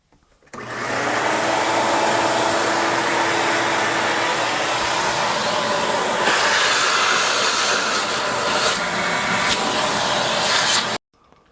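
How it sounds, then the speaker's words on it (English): A shop vac roars steadily for about ten seconds while sucking up loose sawdust in a workshop, loud and close, with no talking. "Let's get rid of all this sawdust here. So I'm going to get my shop vac."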